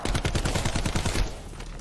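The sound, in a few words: gunfire from weapon in Call of Duty zombies video game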